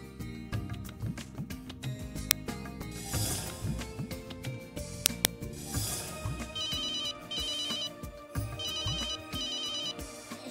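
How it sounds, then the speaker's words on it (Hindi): A telephone rings in short repeated bursts over busy background music, the rings recurring at intervals throughout. "ये अर्जुन फोन क्यों नहीं उठा रहे हैं?"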